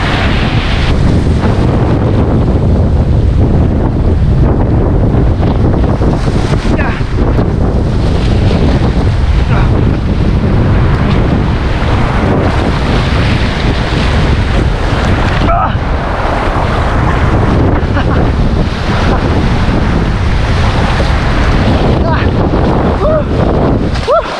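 Heavy surf pounds continuously off the coast of Mindoro, Philippines, heard through strong wind buffeting the microphone, loud and unbroken throughout.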